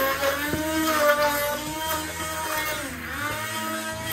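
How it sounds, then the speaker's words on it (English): A hand blender whirs in a mostly empty mixing bowl while making cookies, a continuous buzzing motor drone with shifting pitch and brief jolts as the blade catches, loud and close. "So I'm going to use the hand blender."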